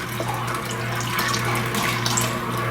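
Liquid poured slowly into a pot while being stirred, making a steady close running-water trickle with faint clinks and no talking.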